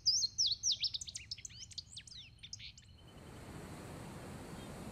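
Male songbirds singing in spring, a bright, rapid series of chirps and warbled phrases close by for about three seconds, then fading into a soft, steady rush of wind-like background noise.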